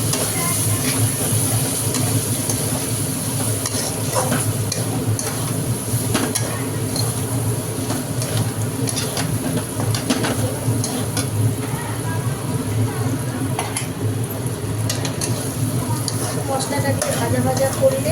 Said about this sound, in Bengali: মশলাটাকে ভাজা ভাজা করলে মশলার কাঁচা গন্ধটা থাকবে